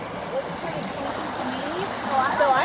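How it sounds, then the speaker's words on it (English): A river flows steadily between grassy, shaded banks in farm country, a soft continuous wash of moving water heard close by while a person talks over it. "It looks like the water is flowing pretty nicely"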